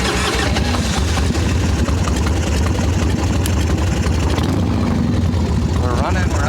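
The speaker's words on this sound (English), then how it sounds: "We're running, we're idling." An Evo Softail motorcycle engine idles loudly with a rough, continuous low rumble and steady chugging pulses, close by, with a voice briefly audible over it.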